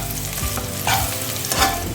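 Onions with two bay leaves frying in a pan for a dhaba-style black chickpea curry, a steady close sizzle broken by two brief louder stirring bursts, no voices.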